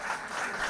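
A panel audience applauds a woman guest as she is introduced, a brief burst of steady clapping at moderate distance with no talk over it.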